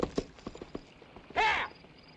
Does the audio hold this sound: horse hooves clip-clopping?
yes